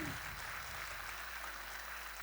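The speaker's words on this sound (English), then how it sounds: "A big round of applause, dear ladies and gentlemen." Audience applause at a school function in Bangalore, a faint, even hiss of distant clapping sustained for a couple of seconds over a low background hum.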